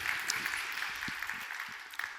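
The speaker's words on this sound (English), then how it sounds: "And one more applause before the presentation." Clapping from a conference audience before a quality-assurance talk, a moderate steady patter of hands with a few louder individual claps.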